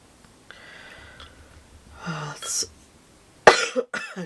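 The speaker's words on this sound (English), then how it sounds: "I just registered that I'm coughing." A few short, harsh coughs and throat noises in a quiet room, with a sharp loud burst near the end followed by smaller ones.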